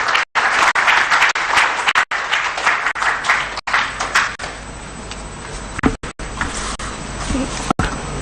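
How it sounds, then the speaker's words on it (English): An audience at a public forum on the 2022 budget applauds to welcome Honorable Isaac Adongo to the podium. The clapping is loud and dense, then thins out toward the end. "with a hand of applause, let's welcome to the podium Honorable Isaac Adongo"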